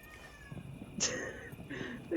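A cat in the video game Cyberpunk 2077 gives a single short, clear meow midway through, against a quiet game background with faint sounds.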